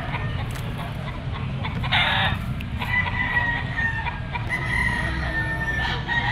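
A white-legged bull stag rooster crows loudly and close at a busy pet market, with other chickens calling and clucking around it over crowd noise.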